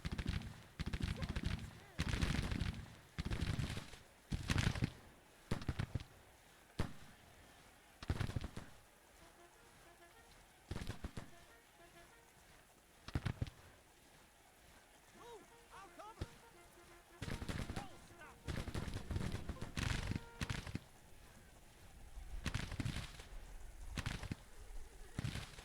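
Artillery and gunfire from a Grand Tactician: The Civil War battle, heard as loud booming blasts and sharp reports at an irregular rhythm. Quieter spells in between carry faint crackle and distant shots.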